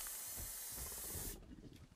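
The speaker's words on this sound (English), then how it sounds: "We're going to go ahead and pop a bug spray." A can of bug spray sprays in the ARK video game, a steady hiss lasting about a second before cutting off into quieter rustling.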